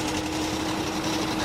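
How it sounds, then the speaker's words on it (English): A 1956 Webster engine runs at a steam rally, giving a steady, loud, continuous mechanical drone with a fixed hum running unbroken throughout. "Webster's engine."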